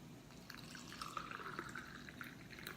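Water poured from a standard small glass into a cooking pot or bowl, a steady trickling splash lasting a couple of seconds, quiet and close with no talking.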